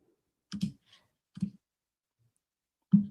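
Keyboard clicking at a streamer's computer: three short, sharp bursts of key clatter, spaced about a second apart with quiet gaps between them, heard close and alone.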